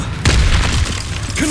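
A spell cast in the Hogwarts Legacy video game lands as a heavy low boom with a magical whoosh, loud and close, followed by a brief rising tonal shimmer.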